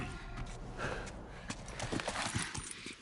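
Horse hooves clopping in The Last of Us video game, an uneven run of soft thuds over a low ambient rumble, with faint breathy snorts and sighs mixed in.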